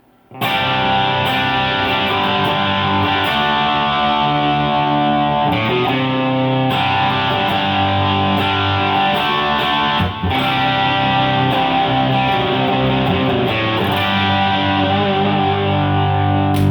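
A distorted electric guitar played through a Joyo American overdrive pedal, with sustained crunchy chords ringing out loud and continuous, with only brief changes between them.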